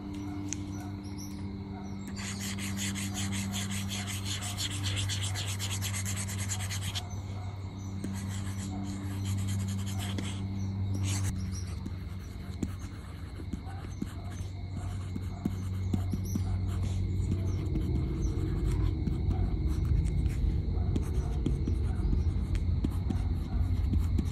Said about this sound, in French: tu as la sensation d'écrire sur du papier